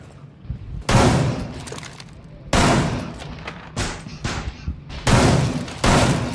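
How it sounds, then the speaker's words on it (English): Shotgun blasts in a Rainbow Six Siege match, with four or five loud, sharp booms spaced unevenly over several seconds, each followed by a brief decaying tail and smaller clatter in between. "you gonna shoot that damn shotgun"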